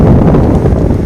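Strong summer wind outdoors in Scotland buffets the microphone in a loud, continuous low roar with steady turbulent rumble and no voices.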